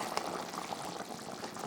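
Egg curry gravy boiling in an open pan, a soft, steady bubbling and simmering with no talk.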